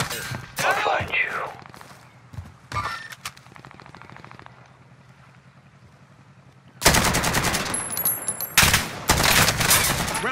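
Call of Duty: Modern Warfare gunfire: loud bursts of automatic fire at the start and again after a quieter stretch, closing with sharp metallic pings, under talk.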